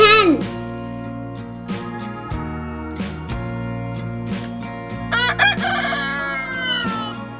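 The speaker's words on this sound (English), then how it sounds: "H for hen." A rooster crows loudly among hen clucks, with the calls arriving in a few bursts over a steady musical backing of a children's phonics song.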